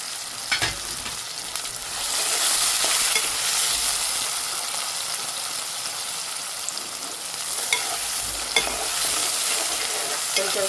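Tomato, onion and green onion being sautéed and stirred in a pan: a steady close sizzle with scraping stir strokes running throughout, no talking.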